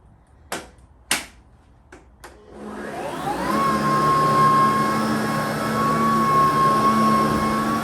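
A few sharp clicks, then a Sebo BP60 cordless battery vacuum cleaner whirs up and settles into a steady, close, high-pitched motor whine.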